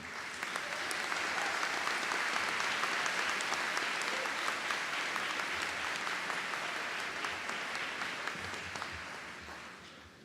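A graduation audience at the Sanford School of Public Policy undergraduate ceremony applauds and cheers the class, sustained crowded clapping with scattered whoops that holds steady before fading in the final seconds.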